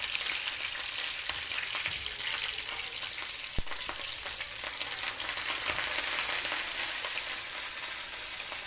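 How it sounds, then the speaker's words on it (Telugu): Green chillies and curry leaves fry in three spoons of oil in a pan, a constant close sizzle and crackle with one sharp tap of a utensil midway and stirring scrapes, no voices. "ప్యాన్లో 3 స్పూన్ ఆయిల్ వేసినాక తరిగిన పచ్చిమిర్చి అలాగే కరివేపాకు వేసుకొని బాగా వేయించుకోవాలి."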